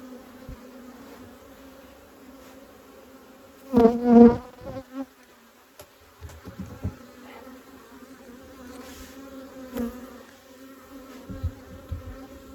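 Honeybees buzz around honey-filled hive frames as a colony is split, a steady close swarm drone with louder passes as single bees fly near.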